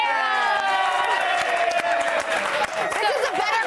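A studio audience at a television show cheers, whoops and applauds loudly for a guest being welcomed, the high excited shouts holding steady throughout.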